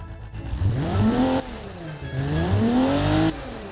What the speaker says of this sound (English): This tiny little engine with its cute carbs. Let's have a manual rev.